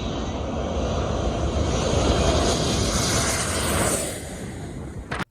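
A loud airplane engine roars steadily and close, then fades and cuts off abruptly.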